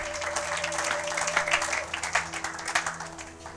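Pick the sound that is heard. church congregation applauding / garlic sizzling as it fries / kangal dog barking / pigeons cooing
church congregation applauding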